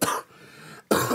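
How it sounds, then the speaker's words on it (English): A man suffering from a flu or bronchial illness gives two harsh, close coughs separated by a brief breathy pause. "with the cough that I have,"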